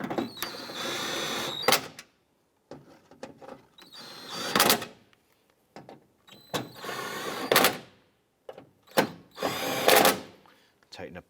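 A power tool tightens window regulator bolts inside the door of a 2001-2005 Honda Civic, whirring in short, loud, close bursts separated by brief gaps and clanks.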